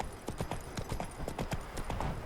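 Hooves of Geralt's horse Roach in The Witcher 3: Wild Hunt, a steady, close clip-clop of galloping beats filling the whole moment, loud and clear with no talk over it.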